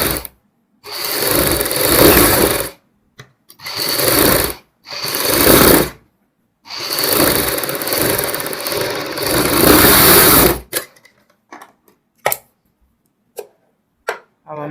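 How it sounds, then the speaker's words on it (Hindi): A sewing machine stitches piping along a kurti neckline, running in several bursts of a few seconds each with short pauses between, then a scatter of brief clicks and taps at the end. "इसी के ऊपर हम दोबारा सिलाई लगाएंगे एक और"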